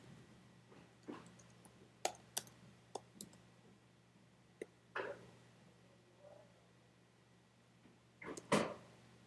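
Scattered keyboard clicks, a few quick taps then pauses, with a louder burst of keystrokes near the end, fairly quiet overall.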